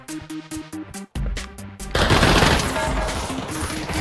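Uzi bursts in the VR shooter Pavlov, starting with short choppy rapid-fire volleys in quick succession, then a longer dense roar of automatic gunfire, loud and close.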